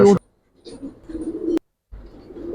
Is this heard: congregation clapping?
no